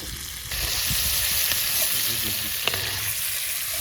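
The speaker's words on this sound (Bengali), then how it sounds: "চিংড়ি মাছ কিন্তু ভাজা হয়ে গিয়েছে" Prawns fry in a hot pan at an outdoor village cooking spot, giving a steady loud sizzle that starts abruptly and holds throughout, with occasional faint stirring clicks and no talk.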